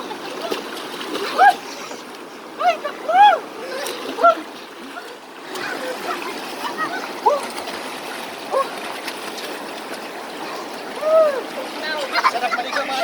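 People splashing and wading in a cold, freshly flooded stream, with steady rushing water throughout and chirpy voices calling out over it, close and fairly loud.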